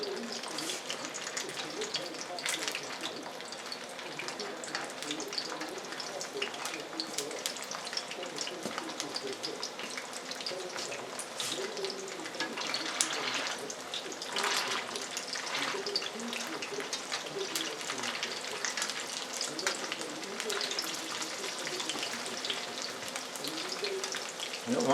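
Eel cakes sizzle in hot oil in a thin pan, cooked four at a time, giving a steady, dense crackling hiss that holds evenly throughout at close range, with no talk over it.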